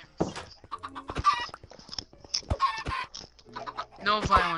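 Chickens cluck and squawk repeatedly in a video game, loud bursts of clucking spread through the clip while someone speaks over them.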